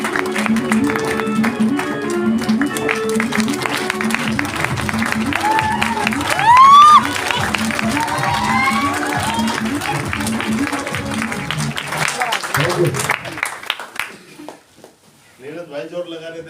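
Audience applause at a Republic Day event on 26 January, dense steady clapping mixed with loud speech over a microphone and crowd noise, then a drop to near quiet and a brief return of voices.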